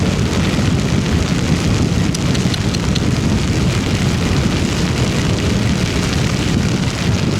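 Heavy rain pours during a solo motorcycle ride near the Lukban boundary, a loud, steady broadband roar that fills the whole stretch without a break.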